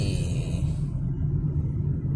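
Steady low rumble of road traffic waiting near a stoplight on a Saturday morning drive, with a continuous engine drone and no voices.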